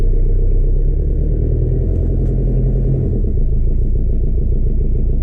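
A 1999 Jeep Cherokee XJ engine drones steadily during a test drive, a loud, close, continuous rumble that stays even throughout with no voices.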